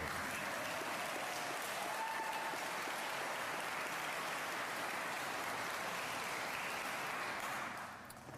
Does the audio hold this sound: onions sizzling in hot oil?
no